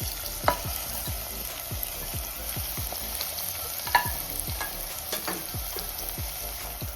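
Steady sizzling of onions frying in hot oil, with repeated soft scraping strokes of a spatula at a regular pace, fairly close and moderately loud.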